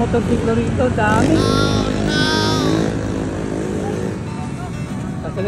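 Many motorcycles passing on a street in the Philippines, a dense, continuous engine roar with a louder swell as one goes by close, and people talking over it.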